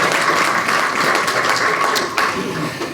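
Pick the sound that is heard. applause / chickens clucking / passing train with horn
applause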